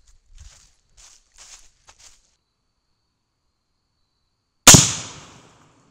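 A single loud rifle shot from a .223 firing a 70-grain Hornady GMX bullet cracks sharply and decays with a short ringing tail, after a few faint footsteps or rustles in a quiet outdoor setting.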